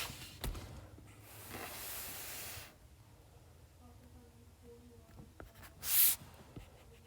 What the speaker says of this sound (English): Now I'm just going to draw that line.